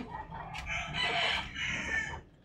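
A rooster crows loudly and near, with chickens clucking around it.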